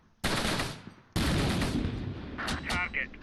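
Machine gun fire in the Close Combat World War II strategy game, two sustained loud bursts that shift into more scattered fire, with a voice talking faintly underneath.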